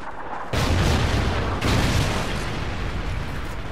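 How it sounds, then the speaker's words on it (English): Call of Duty: Ghosts Trinity rocket strike on the Warhawk map, a sudden loud explosive blast followed by a second booming impact and a long roaring rumble of debris and fire. "Friendly Trinity rocket inbound."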